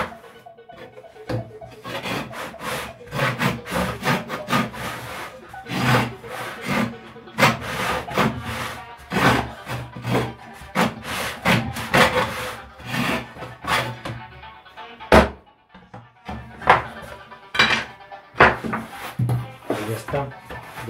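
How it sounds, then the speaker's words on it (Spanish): A hand saw works through material for a homemade Captain America shield, with no power tools. Repeated rasping back-and-forth strokes come in bursts with brief pauses, close and fairly loud, while a person speaks at times. "Noten que estoy usando solo cosas manuales, nada de máquinas. Y mira, se empieza a cortar ahí."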